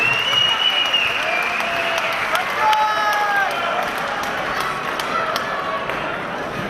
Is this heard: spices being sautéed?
no